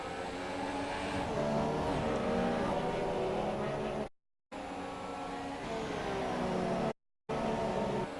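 Race cars on a formation lap in a GP2 racing video game at the Australia round, a steady loud engine drone with rising and falling revs, broken by two brief silent gaps.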